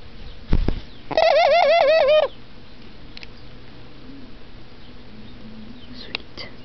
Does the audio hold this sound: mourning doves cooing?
yes